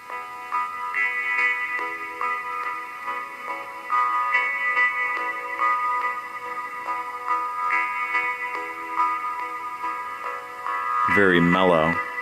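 On a ZTE Open running Firefox OS, a ringtone plays a soft, mellow melody of sustained tones at steady loudness throughout. A voice briefly breaks in near the end.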